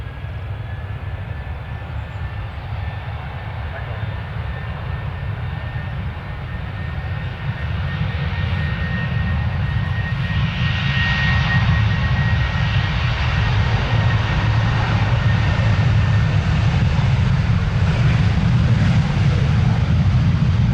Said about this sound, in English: here we have yet another Ryanair just spooling up for departure